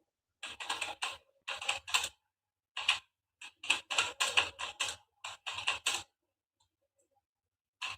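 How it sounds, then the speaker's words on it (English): A computer keyboard being struck hard in quick bursts of loud, clattering keystrokes, close by, with short pauses between flurries and silence near the end. "Someone's killing the keyboard."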